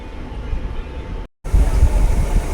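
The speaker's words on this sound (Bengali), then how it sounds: "কাটোয়া বর্ধমান নতুন ইয়মু লোকাল ট্রেন কামনাড়া রেল স্টেশনে ঢুকছে" A new Katwa-Barddhaman MEMU local train rumbles steadily and loudly, broken by one brief silent gap before the rolling noise resumes even stronger.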